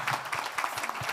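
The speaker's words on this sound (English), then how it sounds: "A big round of applause" A short burst of audience clapping at an African business forum, a moderately distant round of applause in a conference hall lasting only about a second.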